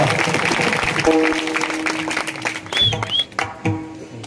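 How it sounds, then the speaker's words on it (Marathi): Audience at a Marathi kirtan in Mali Pimpalgaon clapping, a loud patter of hands from a gathered crowd mixed with voices and tones, trailing into scattered claps near the end. "सर्वांनी जरा जोरात टाळ्या वाजा यांच्या करता येतात."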